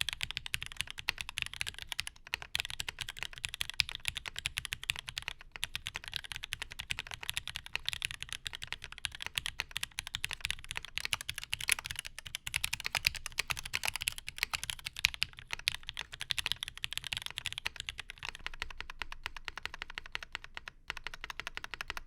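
Steady, continuous typing on a dampened Magnus175 mechanical keyboard, dense clacky keystrokes at an even pace throughout, close and fairly quiet, with no talking.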